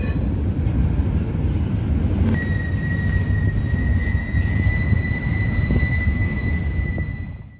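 A container freight train bound for the Union Pacific rolls past near Marion, a steady heavy rumble of wagons with a thin sustained wheel squeal entering after a few seconds, fading slightly at the end.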